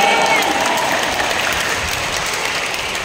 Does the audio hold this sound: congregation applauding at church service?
yes